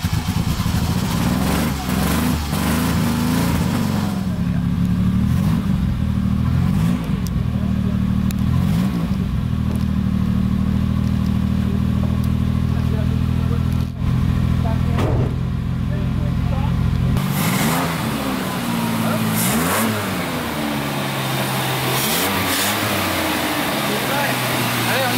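A DeLorean DMC-12 with a manual gearbox, under restoration, revs up repeatedly. The loud, close engine note rises and falls in several sweeps, then settles into a steady idle rumble before climbing again near the end.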